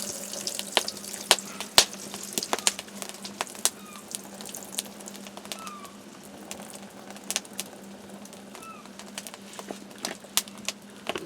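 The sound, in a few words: draining old water from a pot of potatoes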